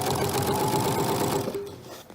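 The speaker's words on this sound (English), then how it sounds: "I'll continue sewing here" Sewing machine stitching binding onto a quilt, a fast, even mechanical whirr that stops abruptly near the end.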